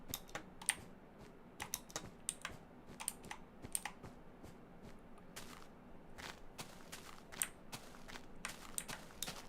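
Rapid, uneven clatter of a loud computer keyboard being typed on, sharp key clicks bursting in quick runs close to the microphone, with no voices.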